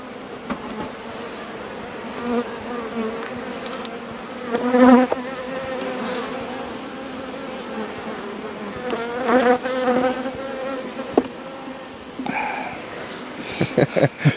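Close, steady droning of honeybees swarming over an open hive as it is inspected, with individual bees rising and fading past the microphone and faint handling noises mixed in.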